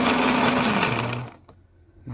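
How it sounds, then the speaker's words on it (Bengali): A blender whirs loudly as it blends amla, ginger, coriander and green chilli with a little water, then its motor cuts off abruptly, leaving a faint quiet room with a couple of small knocks. "তো সামান্য একটু পানি দিয়ে ব্লেন্ড করে নিব"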